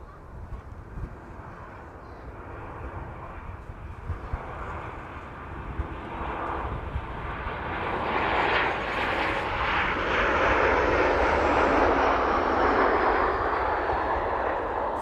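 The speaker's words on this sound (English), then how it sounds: "Jet2 in front of us though, in from Alicante this afternoon. This one just passing through 700 feet now." Jet2 airliner arriving from Alicante, passing low at about 700 feet on approach, its engine roar swelling from a distant rumble into a loud, broad whoosh that holds to the end.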